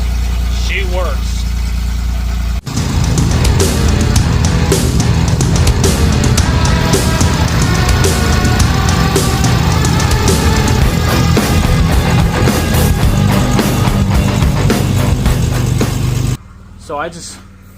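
A Pontiac Firebird engine running after an exhaust leak repair, a loud, steady close-up idle with a deep rumble lasting most of the stretch, then cutting off abruptly near the end; talk is heard briefly at the start.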